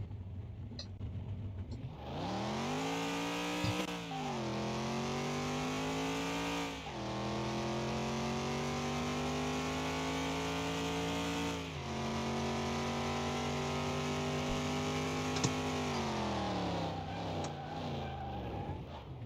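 A car in Car Mechanic Simulator 2021 accelerates hard, its engine climbing through several gear changes with rising, sweeping harmonic pitch, loud and continuous for most of the run, then easing off near the end.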